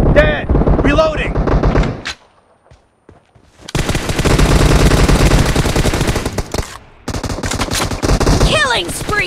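An M416 rifle with a 3x scope fires in a PUBG Mobile team deathmatch: loud, rapid automatic bursts that pause briefly, then resume in long sustained volleys among other in-game gunfire.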